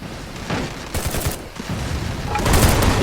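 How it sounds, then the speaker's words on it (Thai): Bursts of rapid gunfire crackle through a noisy Free Fire game battle, with shots growing louder and denser toward the end. "ตอนนี้เขาก็ยิงกันข้างในนะคะ"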